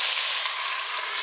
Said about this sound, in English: While the pot is simmering with the sausage and onions, and I can hear it sizzling